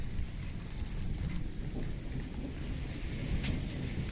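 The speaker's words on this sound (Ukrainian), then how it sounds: "Гримить трохи." Thunder rumbles in a low, continuous roll during a summer storm, with steady rain hissing underneath and no voices present.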